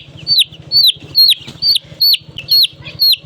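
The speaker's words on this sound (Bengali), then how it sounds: "এখন হলো এরা একটু একটু ঠুকরাঠুকরি করতেছে" Chickens pecking at one another give a steady run of sharp, close clucks and squawks, about seven bursts in quick succession, over a low murmuring flock.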